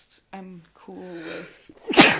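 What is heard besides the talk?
sneeze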